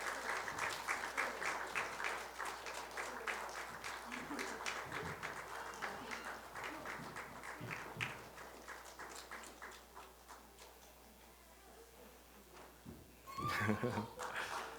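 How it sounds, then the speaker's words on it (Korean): A church congregation claps warmly during a Sunday worship service as flowers are handed to members who have just taken vows. The steady, dense clapping runs throughout, with a voice talking over it. "우리 박수로 뜨겁게 우리 박수하면서 축복하도록 하겠습니다."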